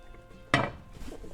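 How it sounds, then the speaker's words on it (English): A metal lid goes onto a pan of eggs simmering in tomato sauce, giving one sharp clink and rattle up close, after which the quiet sizzle of the pan carries on. "So I'm gonna put the lid on"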